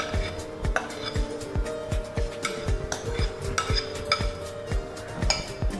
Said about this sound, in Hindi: अभी हम इसमें डालेंगे हमारे मैरिनेटेड मशरूम्स जो हमने योगर्ट में मैरिनेट करके रखे हुए थे।